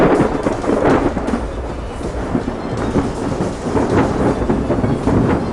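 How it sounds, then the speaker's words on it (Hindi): Violent thunderstorm with heavy rain pouring steadily and thunder rumbling and cracking throughout, loud and close with no voices. "परंतु तूफान लगातार भयंकर रूप लेता जा रहा होता है"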